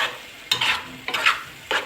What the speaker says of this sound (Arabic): اقلب الطماطم مع البطاطس